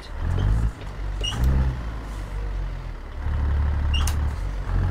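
A Peterbilt 379 truck with a Cat 3406E engine in American Truck Simulator lugs in too low a gear, giving a deep, labored drone with brief hissing bursts and a faint beep, and no talking.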